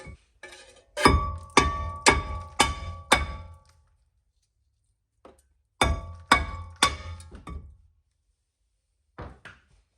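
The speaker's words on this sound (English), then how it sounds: "if you carefully, without damaging the guard on the back, hit the disc" A stuck drilled and grooved BMW brake disc is struck repeatedly with a hammer to free it: two quick bursts of four to five loud metallic clanging blows, plus a few lighter taps, with no talking.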